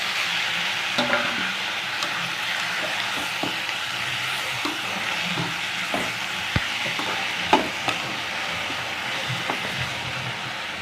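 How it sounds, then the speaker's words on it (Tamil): Tomatoes and curry leaves sautéing in a pan for a dried anchovy fry, a continuous loud sizzle broken by repeated scraping and knocking of a spoon as they are stirred. "ஒரு அஞ்சு நிமிஷம் வதக்கி விட்டுக்கலாம் தக்காளியை போட்டுக்கலாம்"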